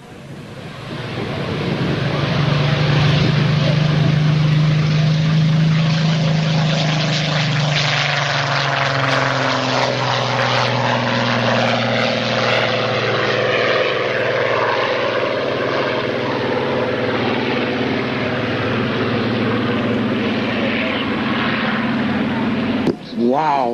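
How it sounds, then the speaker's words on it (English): A Supermarine Spitfire MK18 roars by on a demo flight at Reading, Pennsylvania, its propeller engine droning loud and sustained as it passes, with a rising and falling pitch, while people talk faintly underneath. "Wow, talk about the Spitfire MK18."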